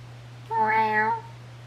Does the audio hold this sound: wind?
no